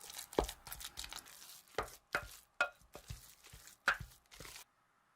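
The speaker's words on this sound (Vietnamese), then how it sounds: "Mình trộn cho thật là đều lên ha." Fish paste is stirred by hand with ground eggs and fried garlic oil, giving soft sticky squelches and scrapes in uneven bursts, close and fairly quiet, with no talking.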